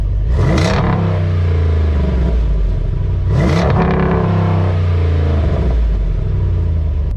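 A 392 V8 engine in a Jeep Wrangler with an AWE Tuning exhaust, valves closed, is revved in park to its soft-limiter redline twice, a loud rising roar each time that drops back to a rumbling idle.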